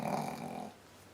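An old deaf dog gives a short, close snort, a breathy nasal rasp lasting under a second before fading into faint background hiss.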